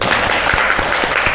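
Brief burst of applause in a school classroom after a student presentation, a dense patter of many hands clapping at once, fairly loud and steady for about a second.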